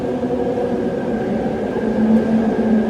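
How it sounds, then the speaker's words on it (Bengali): Steady low rumble of an approaching metro train in Kuala Lumpur, a continuous mechanical drone that builds slightly toward the end, with no voices. "ওই ট্রেন আসতেছে শব্দ শোনা যায়"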